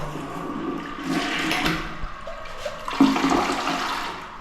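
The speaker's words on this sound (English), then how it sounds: "Let's see the toilet flush." A powerful toilet in an apartment bathroom in Angeles City, Philippines, flushes with a rushing, gurgling surge of water that swells and then drains away, close and clear with no talking.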